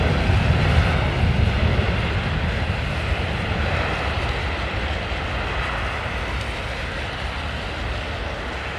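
Hinged thrust reversers on a Trent 700 engine roar as an airliner lands at London Heathrow in heavy snow: a steady, loud broadband rush that fades slightly over the stretch.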